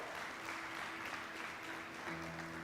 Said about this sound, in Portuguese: Dá um glória a Deus e mais um aplauso ao Senhor bem forte